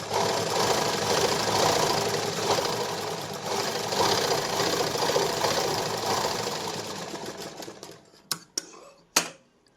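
A sewing machine runs steadily, double-stitching a katori blouse with lining, as one loud continuous whirring run that stops at about eight seconds, leaving a few sharp mechanical clicks.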